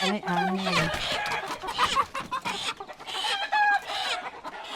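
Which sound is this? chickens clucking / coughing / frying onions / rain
chickens clucking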